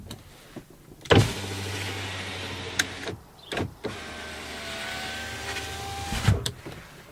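Power windows whir up and down in a 2008 Ford Super Duty truck, several separate motor runs lasting a couple of seconds each, close and clear, punctuated by soft clunks as the glass stops.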